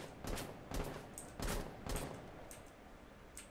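Distant bursts of gunfire in Rainbow Six Siege, a few separated volleys of shots sounding muffled and fairly faint.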